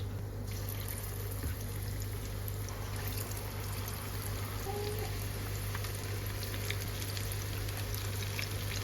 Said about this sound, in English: Time to fry the pakoray.